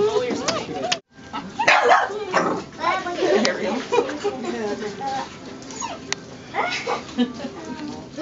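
An 8-week-old Alaskan Noble Companion Dog puppy yips and whimpers in short, high bursts throughout, close by, mixed with a person talking to it, at a pet store.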